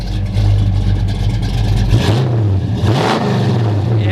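A 1972 Chevrolet Chevelle Super Sport small-block V8 with dual exhaust idles with a loud low rumble, then is revved up and eased back down in a couple of close, throaty blips.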